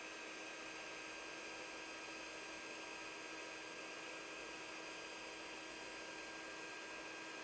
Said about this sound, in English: we're going to take our heat tool and we are going to heat that up